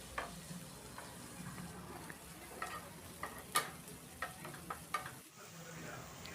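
Finely chopped tomato sautés quietly in a pan for Kerala egg curry, with a soft continuous sizzle and a series of light, irregular spoon taps and scrapes while stirring.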